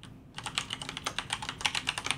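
Keys clatter on a computer keyboard while someone types in the vi editor, a quick uneven run of close, crisp clicks starting after a brief pause.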